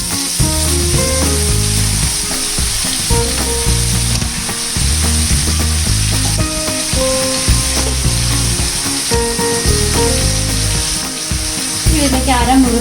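Chopped spinach fries in a pan for a Kerala spinach and egg thoran, a loud, constant close sizzle with rhythmic clicking and scraping from stirring running through the whole stretch.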